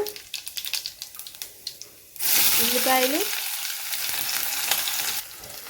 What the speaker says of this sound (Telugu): ఇంకొంచెం ఆయిల్ వేసి పోపు పెట్టేస్తున్నాను